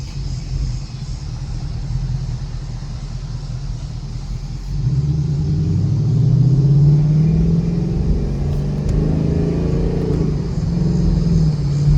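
A 2019 Mustang GT V8 with an X-pipe and a straight-pipe exhaust and no mufflers, heard from inside while driving in the city. A steady deep rumble builds into a louder revving pull about halfway through, with no talk.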